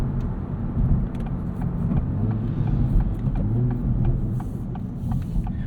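A 2024 Acura Integra Type S hot hatch drives along, heard from inside as a steady low engine and road rumble with scattered light clicks and rattles.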